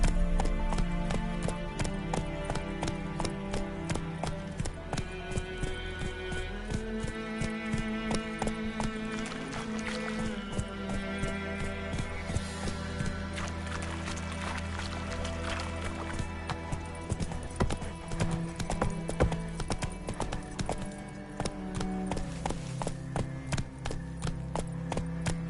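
A horse gallops in The Witcher 3 video game, hooves clip-clopping in a quick steady rhythm over continuous game music, the pounding footfalls close and persistent with a few sharper knocks.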